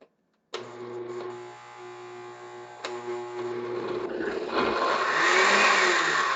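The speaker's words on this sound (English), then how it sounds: "I do have a relatively cheapo blender, so that's definitely part of it." A cheap kitchen blender starts abruptly with a steady high motor whine, then strains and roughens as an air pocket forms, the tone turning noisy and churning toward the end; close and fairly loud, no talk.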